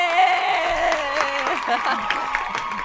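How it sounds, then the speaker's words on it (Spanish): Crowd applause and cheering at a live interview show, mixed with an amplified voice and music-like tones, steady and fairly loud throughout. "Un aplauso."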